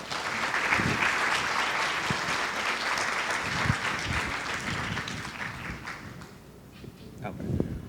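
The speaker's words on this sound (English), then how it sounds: "Let's give a round of applause for Dr. Gatson." Audience applause after a talk on opioids and veterans, broad clapping filling the room, strong at first and tapering toward the end, with a few louder individual claps.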